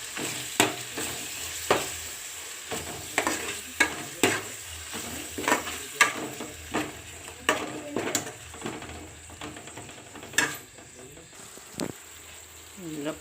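Ginger garlic paste frying in a pan with yogurt going in for egg biryani, a soft steady sizzle broken by regular sharp spoon scrapes and knocks against the pot.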